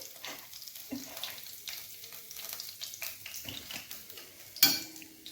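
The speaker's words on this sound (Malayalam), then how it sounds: "ഈ ബാക്കിയും കൂടി വറുത്തെടുക്കണം" Pearl spot fish frying in oil crackles and sizzles softly, mixed with intermittent scrapes and clinks of a utensil against the pan, close but fairly quiet, with a sharper metallic knock near the end.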